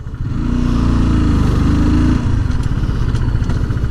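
Motorcycle engine idling in neutral, a loud close steady rumble with slight throttle changes and a brief dip near the middle, with no talking.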